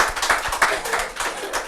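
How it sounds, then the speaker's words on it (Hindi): Loud, dense clapping from an audience at a Rajasthan Parishad gathering, a close burst of many hands filling the short stretch without letting up. "एक बार जोरदार से ताली हो जाए."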